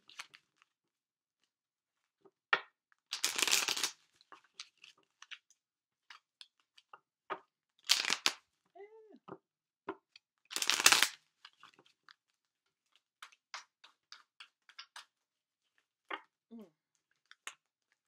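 A deck of tarot cards is shuffled in several short, crisp riffling bursts, close by, separated by quiet stretches with small clicks and taps.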